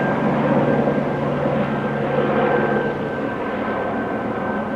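Helicopter buzzing overhead in Canoga Park, a steady loud rotor and engine drone with a constant high whine, holding at the same level throughout with no talk.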